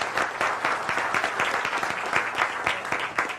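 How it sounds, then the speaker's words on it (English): Live audience at a cartoon caption contest festival event gives a brief, dense round of applause, close and even, with rapid overlapping claps and no talk. "Let's give Mickey a round of applause for that."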